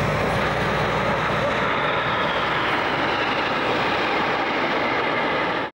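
Aircraft engine roar at the Farnborough airshow holds steady and loud throughout, a dense broadband drone that cuts off abruptly at the end.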